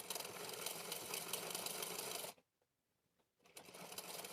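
A sewing machine stitching tucks on a boat-neck blouse runs in a loud, steady whirring chatter up close, stops for about a second with faint handling noise, then starts up again.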